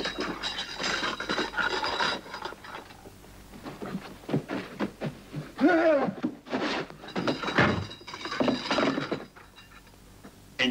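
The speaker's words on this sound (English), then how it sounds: "Open that door." A wooden door works open with ratcheting mechanical clicks, creaks and thunks that come in uneven bursts, close and clear against a quiet room.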